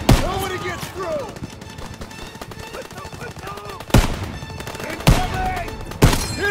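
Battle gunfire in the Call of Duty WW2 video game: continuous loud machine-gun and rifle fire with several heavy booming shots, while voices shout over the combat.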